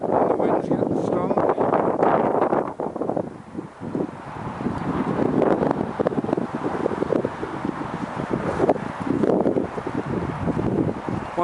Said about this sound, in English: And the wind's getting strong.